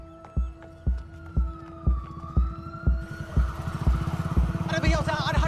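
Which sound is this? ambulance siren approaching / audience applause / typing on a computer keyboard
ambulance siren approaching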